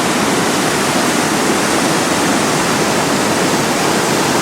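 Savica waterfall in a Slovenian gorge roars as a dense, steady rush of falling water, loud and close with mist-raising force, and no voices break through.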